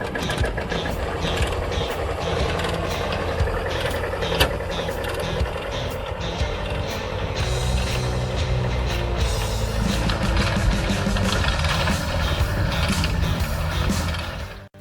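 A Lanz Bulldog All-Dog tractor, the kerosene-burning variant, runs steadily with a dense mechanical clatter and rapid rhythmic knocking that stays loud and close throughout, with no voices.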